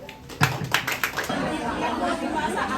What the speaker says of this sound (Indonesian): Tepuk tangan Bu sebelumnya